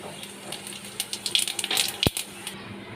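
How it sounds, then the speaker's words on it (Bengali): Whole cumin seeds tumble into a hot pan in a home kitchen, giving a quick patter of small rattling ticks and light sizzle, then a single sharp clink of metal near the end, close and quiet. "এখানে আমি গোটা জিরে নিয়ে নিয়েছি গোটা জিরে দিয়ে দেবো"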